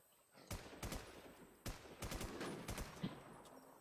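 Bursts of gunfire from a zombie shooter game ring out in several short rapid volleys, sharp and fairly close over a quiet background, with no talking during the shots.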